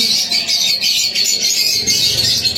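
Pigeon at a Karachi bird market breeder stall, disturbed after being lifted off its eggs, calling within a dense, continuous wash of bird chatter from many caged birds close by.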